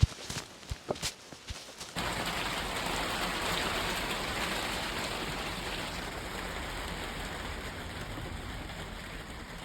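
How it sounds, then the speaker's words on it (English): Steady rain drums on the roof of a garden shed at a UK allotment in early spring, a dense, even hiss heard from inside after a few scattered drips and knocks at the start. "Just taking refuge inside the shed until The rain passes, it's slowing down now."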